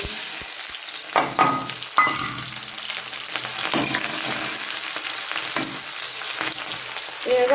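Chili and onion dropped into hot oil for a cabbage and pea dish, a loud continuous sizzle and crackle with a few bursts of stirring, close up, no speech.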